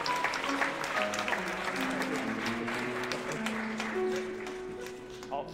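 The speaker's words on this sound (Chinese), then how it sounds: "让我们给他们一个热烈的掌声。" Guests at a church wedding ceremony applauding, a continuous mid-distance wash of clapping under sustained organ-like musical tones that fade toward the end.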